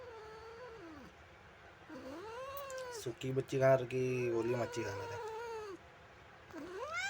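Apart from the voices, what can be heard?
cat meowing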